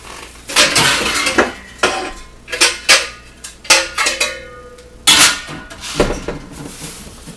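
Metal colander and other straining gear clank and rattle as they are pulled out and handled in a kitchen, a run of loud, irregular clattering knocks and rings spread across several seconds.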